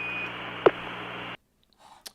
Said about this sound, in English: So this is a recording taken from NASA, and what we're actually going to use is this little beep here.